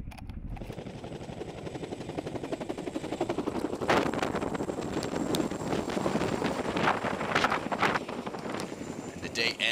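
A military Chinook helicopter operating in a combat zone during an explosive ordnance disposal mission gives off a loud, steady rotor chop and engine roar, with wind buffeting throughout and no break.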